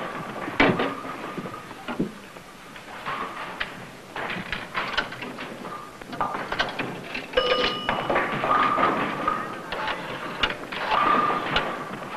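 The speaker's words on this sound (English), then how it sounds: "You ought to phone her." Telephone call being placed, a run of irregular clicks, taps and short tonal beeps like dialing and handset handling, fairly close and continuing for several seconds without speech.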